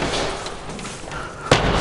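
A door slams shut in a zombie survival video game, one sudden heavy thud near the end after a stretch of muffled game noise and low murmuring.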